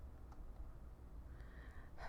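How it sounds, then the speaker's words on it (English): A single sharp human gasp near the end, brief and close, after quiet breathy background. "A gasp escapes me."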